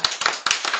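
Applause on a French television talk show set, several sharp hand claps in uneven bursts, close and fairly loud, with no talking over them.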